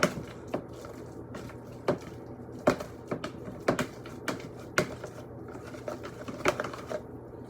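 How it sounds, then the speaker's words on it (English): Avocado being mashed in a bowl with a masher for guacamole, a series of sharp, irregular close knocks and squelchy thumps repeating every half second or so. "get a masher, just mash it up"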